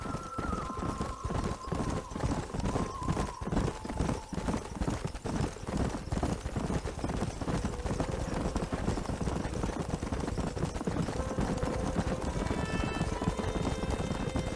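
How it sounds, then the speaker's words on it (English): Horses' hooves clip-clop rapidly and continuously over a dense, busy background, with a brief whinny in the mix, in the video game Red Dead Redemption. "There's the horses!"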